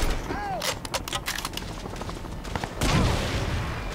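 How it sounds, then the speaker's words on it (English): Crysis 2 combat: a rapid string of sharp gunshot-like reports, then a heavier boom from a grenade launcher near the end over steady background rumble, with faint talk. "What I pretty sure is a grenade launcher."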